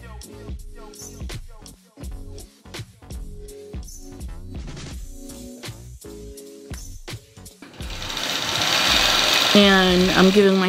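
Longarm quilting machine stitching a large quilt, rapid rhythmic mechanical thumping in bursts, loud and close, then giving way to a denser whirring run.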